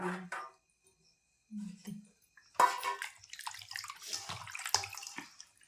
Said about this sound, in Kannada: ಈಗಿದು ನೀರು ಜಾನಿ ತಗೊಂಡು ಇನ್ನೊಂದು ಸಾರಿ ತೊಳಿತೀನಿ ರೀ ಎರಡು ಸಾರಿ ತೊಳೆದ್ಬಿಟ್ಟು ಅದು ಚಿಕನ್ ಎಲ್ಲ